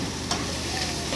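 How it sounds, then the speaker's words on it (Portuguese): Garlic fries in a hot pan with a dense, steady sizzle and faint stirring scrapes, close and continuous throughout. "E aqui coloco o alho primeiro."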